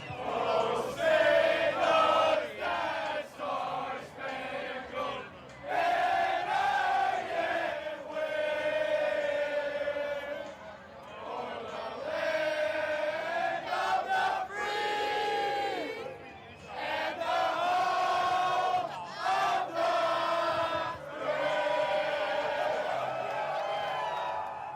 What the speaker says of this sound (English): I caught some youngins singing the national anthem at the top of their lungs